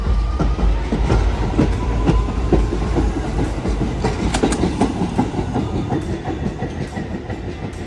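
A Staten Island Railway commuter train departs Annandale Station, rumbling along the rails with rhythmic clickety-clack, a steady low roar and occasional faint squeals, close by and continuous.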